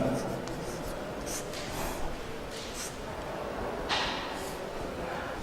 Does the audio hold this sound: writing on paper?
yes